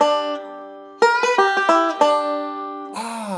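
Two banjo endings back to back, first a pinch and then a roll: a sustained plucked chord fades, then a quick cluster of bright picked notes rings out, ending in a short strum, all unaccompanied.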